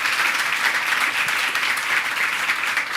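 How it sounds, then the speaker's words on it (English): Steady audience applause in a hall after a question session, dense and even clapping from a crowd sustained throughout without letup. "Round of applause."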